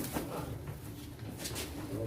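Pigeons coo amid a noisy crowd at a pigeon auction in Çorum, the low calls continuous and partly masked by nearby voices and bustle.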